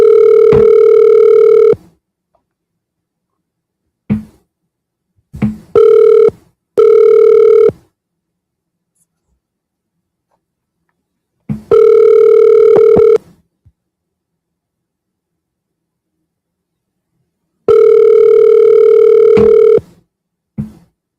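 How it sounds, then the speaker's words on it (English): A telephone call rings out with a steady two-tone ring tone, several long ring bursts separated by short blips and silent gaps before the call goes to voicemail. "Let's call him back."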